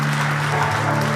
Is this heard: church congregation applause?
yes